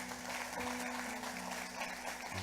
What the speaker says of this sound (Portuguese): Você pode dar mais uma salva de palmas pela vida do Samuel?